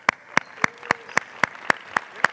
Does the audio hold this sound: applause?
yes